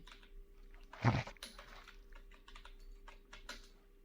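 Keys clatter on a computer keyboard as a name is typed into an online police recruitment application form, with quick irregular taps, one louder knock near the start and faint background hum, no talk.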